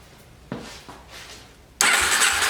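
2004 Yamaha TTR 250 dirt bike with a carburetor fuel-flow problem, two short cranking attempts followed by the engine catching and holding a loud, rough, steady running roar.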